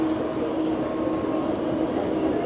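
Steady rumble and hum of a subway train in a Guangzhou metro station at night, continuous and fairly loud throughout, with no talk.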